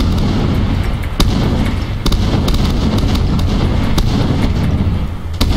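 Grenade explosions in a video game, a loud continuous stretch of booming blasts with sharp cracks scattered throughout and no clear talk.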